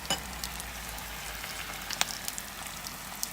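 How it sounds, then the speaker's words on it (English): Food frying in a pan gives a faint, steady sizzle scattered with small crackles and pops, quiet and close with no voices. "I can hear the sound, sizzling sound for this"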